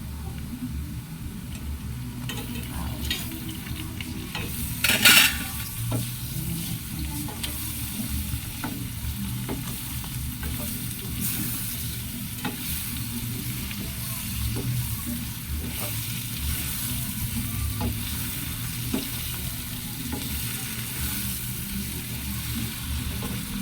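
Shrimp sizzle and fry steadily in garlic butter in a pan, a continuous close crackle with occasional stirring clicks and no talk.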